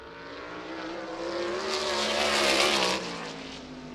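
A USAC race car coming around on lap two at Lucas Oil Indianapolis Raceway Park, its engine roaring steadily louder as it approaches, peaking close by, then dropping off sharply as it passes.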